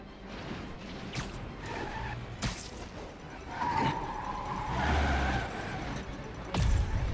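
A truck drives in the Marvel's Spider-Man video game, with rumbling vehicle noise, tire skids and short crash-like bangs scattered through a busy, fluctuating mix, with no talking.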